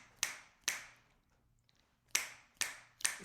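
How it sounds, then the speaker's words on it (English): Finger snapping during a guided spiritual breathing exercise: two sharp, close snaps, a short quiet gap, then three more crisp snaps in quick succession. "Go ahead and snap with me 3 times."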